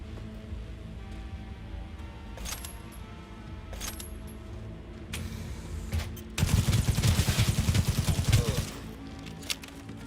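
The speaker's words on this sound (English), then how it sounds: "Keep firing, goddammit!" Gunfire from the video game Cyberpunk 2077 crackles in scattered shots, then a dense rapid burst of automatic fire erupts for a couple of seconds before tapering off, loud and close.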